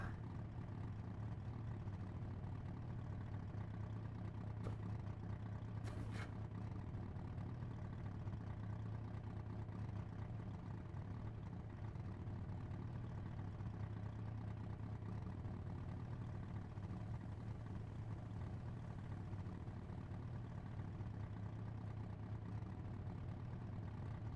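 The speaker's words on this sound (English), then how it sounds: "I like to hear the engine roar." A car engine idles steadily in the GTA 5 video game, a low, even hum holding for over twenty seconds with a couple of faint clicks and no talk.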